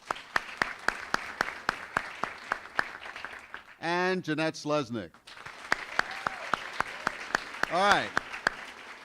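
An audience at a Coral Gables commission candidates debate claps in sparse, scattered bursts, and a voice briefly speaks over it.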